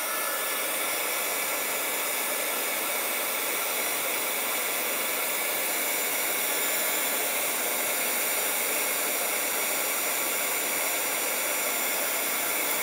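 An embossing heat tool blows a steady, loud, airy whoosh for a long stretch while it melts white embossing powder, its motor hum and hiss constant and unbroken.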